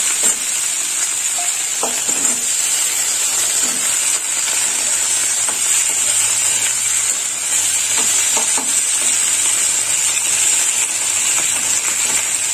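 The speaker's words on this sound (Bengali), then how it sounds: "ওই ভেন্ডিগুলো ভেজে নেবো" Sliced okra frying in a pan for a bata fish dish, a steady close sizzle with occasional stirring scrapes, continuous and fairly loud with no talk.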